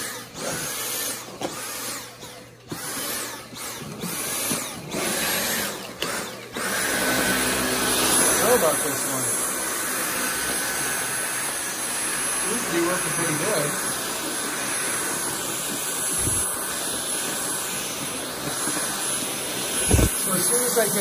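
A Dyson vacuum cleaner running over a floor and carpet, a loud steady whining roar that surges and cuts out at points, heard close with a person talking over it.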